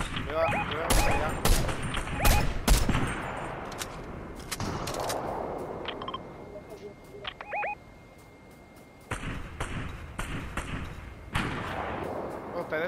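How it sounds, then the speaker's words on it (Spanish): Fortnite gunfire comes in loud, close bursts of rapid shots mixed with heavier thuds, then thins to scattered distant pops and resumes, while people talk over parts of it. "ustedes están disparando desde ahí."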